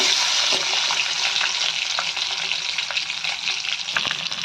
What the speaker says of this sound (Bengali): প্রথমে আমি ডিমগুলোকে একটু ভেজে নেব